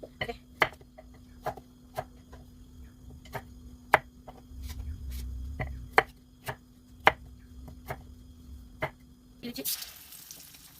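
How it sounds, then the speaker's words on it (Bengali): Knife chopping vegetables on a board for a home-cooked meal with hilsa fish, with about a dozen sharp, irregular chops close by over a low steady hum and a brief burst of hiss at the end. "সবজিটা দিয়ে নেবো, কেটে নিই"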